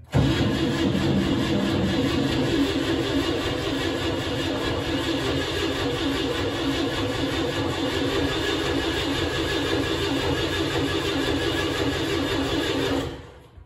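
Clark forklift engine that had not been running, steadily cranking and trying to fire for about thirteen seconds, a loud continuous churning close by that cuts off abruptly at the end.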